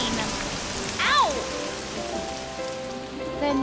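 Cartoon rain falls in a steady, even patter that fills the whole stretch, with a quick descending whistle-like tone sliding through just after the first second.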